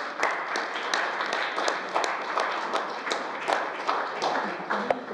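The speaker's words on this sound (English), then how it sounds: "But the applause is an applause for you" Steady audience applause for Nicola Beer at a women's leadership award ceremony, many hands clapping continuously with sharp individual claps standing out over the dense crowd sound.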